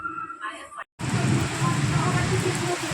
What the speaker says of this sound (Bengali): বিশাল বৃষ্টি শুরু হয়ে গেল, এখন বাজছে 2:30। কি বৃষ্টি আর কি বৃষ্টি।